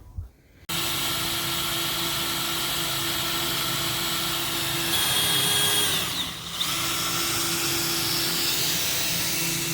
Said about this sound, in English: drilling out some broken bolts